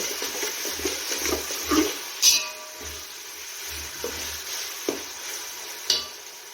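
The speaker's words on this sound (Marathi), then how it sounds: "दोन चमचे आलं लसूण पेस्ट टाकून घेऊया सर्व मिक्स करून घेऊ" A spoon stirs onion, chili and ginger garlic paste frying in a pan, making repeated close scraping strokes over a steady soft sizzle, with a few sharper clinks against the pan.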